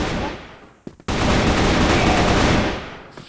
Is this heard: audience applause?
no